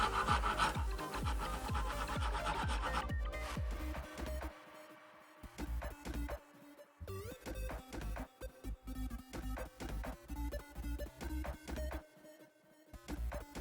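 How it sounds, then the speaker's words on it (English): A wood rasp files the sides of a handmade wooden Moorhammer slingshot, giving repeated rough scraping strokes close up, a dense burst at first, then a steadier run of evenly spaced rasping passes. "we're gonna even out the sides using wood rasps"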